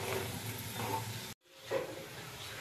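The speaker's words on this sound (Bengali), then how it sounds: "দুধটাকে জাল দিয়ে ঘন করে নিচ্ছি" Two litres of milk boil down in a pot for carrot halwa, with a steady close bubbling hiss and stirring that drops out briefly midway before resuming.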